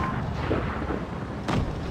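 Tank cannon fire in a competitive tank battle video game match, a dull rumbling backdrop with one sharper booming shot near the end, no voices.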